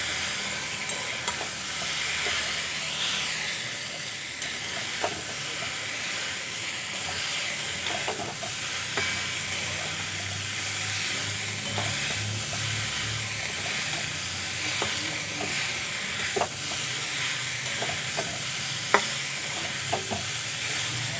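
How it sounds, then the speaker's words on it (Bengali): Fried fish being stirred into sizzling masala in a pan for a Bengali fish curry: a steady frying sizzle and hiss runs throughout, with scattered scraping clicks of a spatula stirring, no talking. "এখন আমি ভেজে রাখা মাছগুলো দিয়ে দেব। মশলার সাথে খুব ভালো করে মিশিয়ে নেব।"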